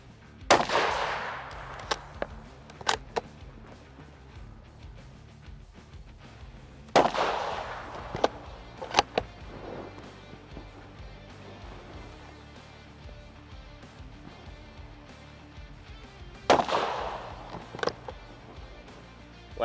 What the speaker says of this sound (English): I'm gonna shoot this one out of a Magpul PMAG.